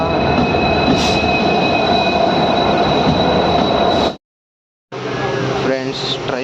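A crowded passenger train rumbles loudly along the rails with a steady roar and faint squeals, cuts off briefly, then resumes with a screeching wheel sound.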